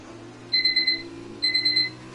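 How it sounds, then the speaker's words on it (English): An electronic alarm sounds two short bursts of rapid, high chirping beeps separated by a brief pause, clear and fairly close over a low background hum. "Smoke alarm."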